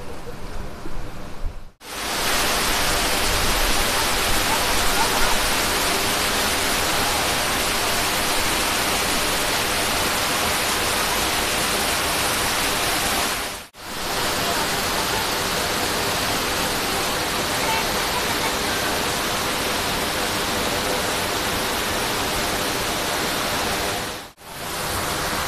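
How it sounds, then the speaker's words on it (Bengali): Water overflowing the dam at Bhushi Dam, Lonavala, in the rainy season, a loud continuous rushing roar that fills the whole span, broken only by a few very brief gaps. "পুরো দেখাচ্ছে যে এই ড্যামটা ওভারফ্লো হয়ে জলটা বেরাচ্ছে।"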